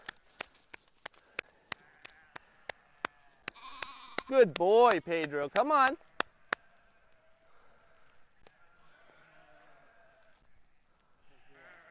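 A sheep bleats several times in a wavering burst near the middle on a grazing pasture, set against sharp regular ticking and a quiet background; a person calls to the sheep briefly.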